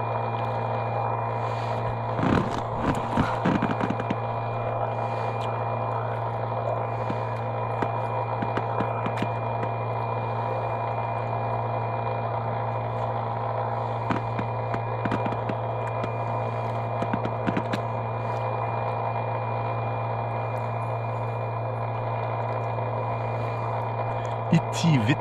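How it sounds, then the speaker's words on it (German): An Itiwit outboard motor pushes an Itiwit boat downstream on the Lahn river, holding a steady low drone throughout. Occasional splashes and clicks cut through the constant hum. "Itiwit Motor und Itiwit Boot. Eine gute Kombination."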